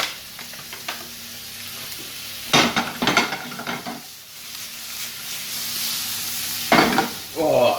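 Smoked bacon lardons fry in a pan with a constant sizzle, while louder bursts of stirring and scraping come through in a few clusters; no one speaks.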